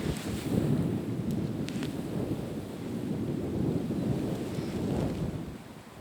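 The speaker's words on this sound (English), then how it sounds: "We got him moved over here out of the wind, so hopefully you can hear us a little bit better" Strong wind roars steadily across the microphone at a public-land turkey hunting site in Nebraska, a dense rumbling buffet that swells and eases slightly but never lets up. No one speaks over it.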